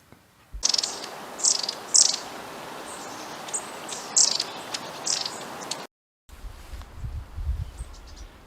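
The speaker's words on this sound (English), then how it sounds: "keep listening out for that little chirping, sneezing sort of sound that they make" Small woodland birds chirp in short, high bursts against a steady insect-like hiss in an autumn wood, the calls close and repeated at irregular intervals, then a brief gap and a softer stretch with low rumbling.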